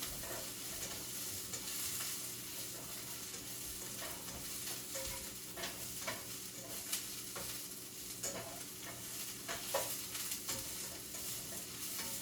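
Skillet sizzling steadily as taco skillet ingredients are stirred and browned, with soft scraping strokes of a utensil over the constant frying hiss, close and without speech.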